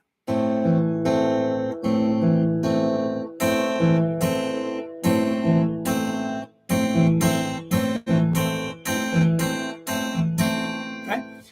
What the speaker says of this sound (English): So hopefully what you hear there is sort of that piano sound.